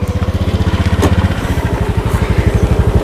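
A new motorcycle engine revs and pulls away close by, its steady, pulsing exhaust throbbing loudly throughout with a brief change in rhythm midway.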